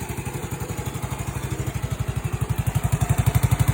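A Honda ATC90 three-wheeler engine runs up close, its fast regular putter growing louder and more pronounced toward the end, with no voices.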